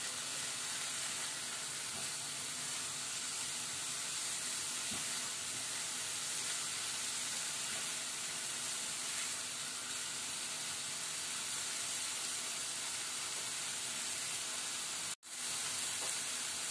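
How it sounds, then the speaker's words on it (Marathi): Fenugreek leaves fry in a pan with a steady, continuous sizzle and hiss, close and even, with no talking, and a brief dropout near the end. "मेथी चांगली परतून घेतलेली आहे."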